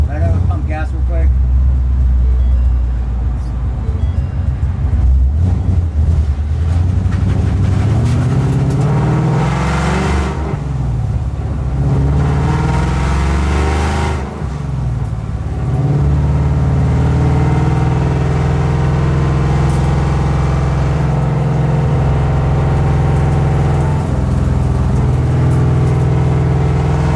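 A Ford Mustang drift car drives on a wet road, its engine a steady mid-pitched drone with a few revving rises and shifts, heard from inside the car under ongoing talking.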